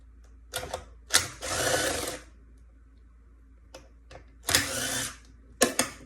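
8mm bolts being removed from the onboard charger of a 2012 Nissan Leaf, heard as two whirring bursts of a power driver, each a second or so long, with sharp clicks and metallic taps between, close by and without speech.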